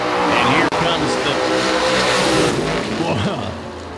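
A drag racing car launching hard with a wheel stand, engine roaring loud and raw with a brief cut before the howl continues, then easing off toward the end; a voice talks over it.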